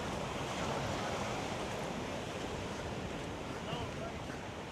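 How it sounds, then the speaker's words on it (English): Ocean surf washes onto a small San Diego beach in a steady, loud, continuous roar, mixed with wind buffeting the microphone and no break in the sound. "That's a cool little beach."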